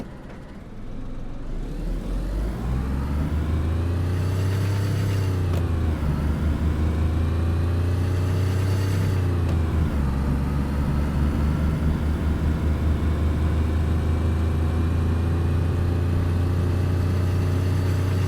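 Car engine in the DayZ video game revving and accelerating under boosted acceleration, a steady loud drone that climbs in pitch, drops at gear shifts and climbs again, alone without talk.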